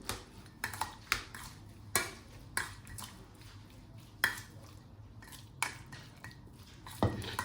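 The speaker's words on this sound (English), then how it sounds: "Then I'm gonna mix it very well." A spoon works through salmon tartare and hot sriracha in a bowl, making a run of sharp clinks and scrapes against the dish at an uneven, steady pace. It is close and fairly quiet, with no talking.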